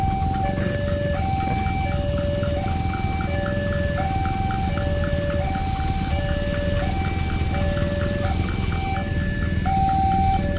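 A railway level crossing warning bell near Cigading station in Indonesia rings in a steady repeating two-tone pattern, loud and continuous over low road traffic rumble.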